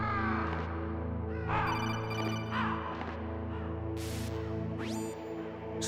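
Crows caw in the video game Metal Gear Solid, several harsh calls scattered at intervals over a steady droning musical backdrop, moderately close.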